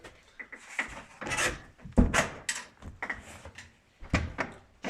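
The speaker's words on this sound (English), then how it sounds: "We close the doors." Wooden doors of a calf warming box fitted with a small electric heater are swung shut, giving several knocks, rubs and a firm thud amid scattered handling noises, close by with no talking.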